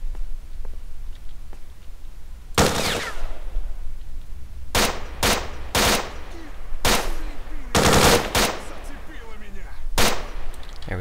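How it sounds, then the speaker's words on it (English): Automatic gunfire in the S.T.A.L.K.E.R. Shadow of Chernobyl video game, heard as several sharp, loud bursts of rapid shots separated by short pauses, with one longer burst near the middle. "This gun isn't the most accurate. But I mean, it is fully automatic, basically"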